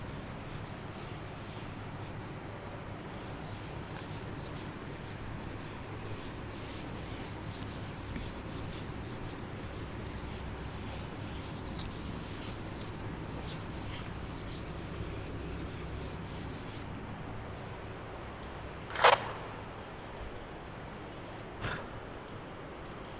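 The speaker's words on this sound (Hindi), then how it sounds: "रब कर देता हूँ।" Writing being rubbed off a classroom board by a teacher, a long, soft, continuous scrubbing and rasping that carries on steadily, with one or two sharp knocks near the end and no talking.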